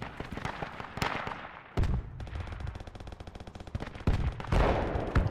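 Machine gun fire in a World War II battle at Omaha Beach in the Project Reality game, with loud rapid bursts and sustained rattling volleys alongside scattered gunshots and distant explosions.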